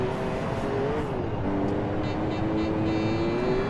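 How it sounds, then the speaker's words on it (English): A Dodge Ram pickup truck races a World Rally special stage in Gran Turismo 4, its engine holding a steady, loud, droning note that dips and climbs slightly with gear and throttle changes, no voices. "But we are in the lead in the Dodge Ram pickup truck on a World Rally special stage"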